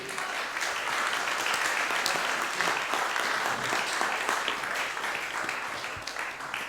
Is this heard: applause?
yes